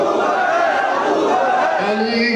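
A crowd chants the slogan "gali gali nagar nagar" in loud unison at a religious gathering, a sustained wall of massed voices with a leader's voice rising near the end.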